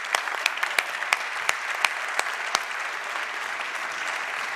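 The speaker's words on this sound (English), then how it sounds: "Can I have one big, massive applause?" Audience applause at a green awards ceremony, dense steady clapping from a crowd with a few sharp, louder claps standing out near the microphone, little talk.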